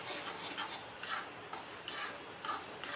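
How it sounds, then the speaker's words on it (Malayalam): A spoon scrapes and stirs thickened semolina in a clay pan, giving a series of rhythmic, close scraping strokes roughly every half second, with no voices. "ഇളക്കി കൊടുക്കാം."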